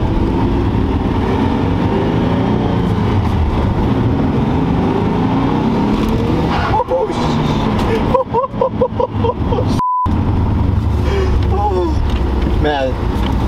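A twin-turbo Nissan 350Z roars steadily as it accelerates hard with wheel spin, heard from inside the car, with people talking and cheering over the engine and a brief dropout near the end.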